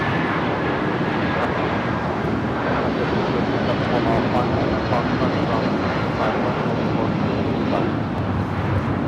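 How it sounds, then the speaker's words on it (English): A United Airlines Boeing 757-200 taking off from Los Angeles airport bound for Newark, a loud, sustained broadband jet roar that holds steady throughout. "This is United Airlines flight 1700 taking off to Newark on the 757-200."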